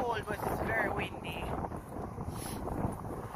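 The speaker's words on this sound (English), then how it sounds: "it's not that cold, but it's very windy" Strong wind gusting outdoors, rumbling across the microphone in a steady roar while a person speaks.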